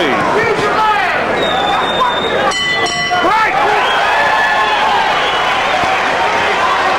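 A boxing ring bell clangs with rapid strikes to end round 3 of a 1988 heavyweight fight between Evander Holyfield and James Tillis, ringing briefly over a loud, roaring arena crowd.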